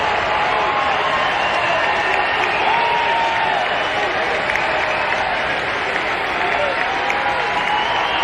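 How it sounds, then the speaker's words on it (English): A packed LSU baseball stadium crowd during an Ole Miss at LSU college game roars loudly and continuously, a dense wall of cheering and clapping with no break. "Listen to this crowd coming to full throat."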